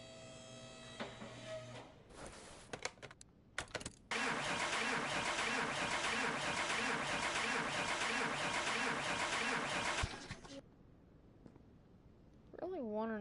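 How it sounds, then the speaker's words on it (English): Car engine cranking in a car mechanic simulator game, with a few short starter bursts, then a sustained grinding crank of about six seconds that cuts off abruptly, followed by quieter sounds. "if it doesn't turn over here, I'm just gonna go rebuild a new engine"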